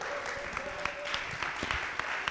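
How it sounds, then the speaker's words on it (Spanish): A congregation at a Spanish-language religious talk breaks into faint, scattered clapping, individual hand claps popping out over a soft hall background. "Dele un aplauso al Señor."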